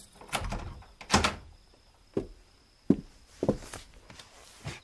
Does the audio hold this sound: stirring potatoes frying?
no